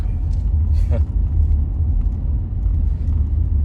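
Steady low rumble of a car cabin while driving, with dense engine and road noise that fills the clip evenly, close and continuous with no breaks.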